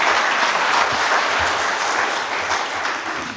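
A seated audience applauds steadily at a land justice working group commissioning ceremony in Nairobi. The dense, even clapping holds at one level for the whole stretch, with no voices over it.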